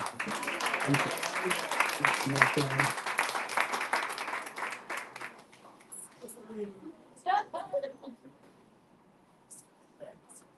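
A crowd at a Vedic wedding at the Bhakti Center in New York claps steadily for several seconds, then the applause fades into scattered voices and murmured talk nearby.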